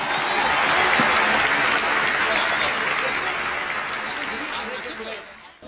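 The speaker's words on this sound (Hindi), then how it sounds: "पगले ताली बजाओ" An audience at a film awards show in Malaysia applauds in a dense, steady wash of clapping that holds for several seconds before fading toward the end.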